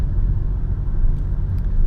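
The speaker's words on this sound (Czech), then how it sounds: "počkáme, necháme to auto projet a teprve potom pojedeme my" A car passes on an urban road in Prague, a steady low rumble of tyres and engine heard close by without talk, with faint higher hiss near the end.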